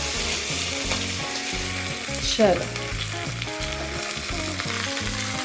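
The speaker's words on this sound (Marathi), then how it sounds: "आता कढीपत्ता घालते तेलामध्ये" Curry leaves drop into hot oil with cumin and mustard seeds for a coconut chutney tempering. They set off a loud, crackling sizzle with a sharp burst of spitting, over a steady repeating background pattern. A single brief word is spoken.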